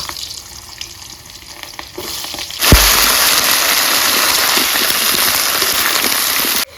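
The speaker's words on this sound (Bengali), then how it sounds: "এখন আমি লাউ আলু ফুলকপিটাকে আগে দিয়ে দিব" Bottle gourd, potato and cauliflower tip into hot oil spiced with dry red chillies, bay leaf, panch phoron and ginger for a mixed-vegetable khichuri, bursting into a loud, steady sizzle after a quieter crackle that carries on to the end.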